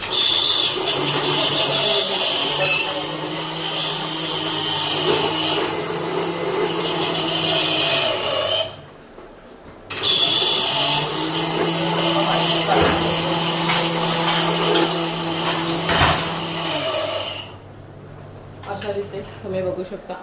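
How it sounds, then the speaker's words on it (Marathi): A kitchen mixer grinder blends fresh coriander and tomato into a paste, its loud, steady motor whir running in two long bursts separated by a short pause and cutting off near the end. "मिक्सरला वाटून घेते कोथिंबीर आणि टमॅटोचं"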